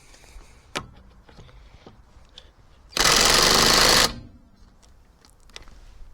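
A cordless power tool loosens tight wheel nuts on a Toyota Celica, giving one loud, close burst of whirring and hammering that lasts about a second, with faint clicks and handling noise before and after.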